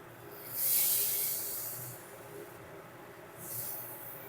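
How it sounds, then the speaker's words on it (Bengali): Water poured into sizzling masala in a pan for Bengali egg curry gives a loud hissing burst that eases off, then a second, smaller hiss near the end, with no talk. "এর মধ্যে এবারে আমি জল দিয়ে দেবো"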